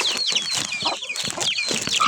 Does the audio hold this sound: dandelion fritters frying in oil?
no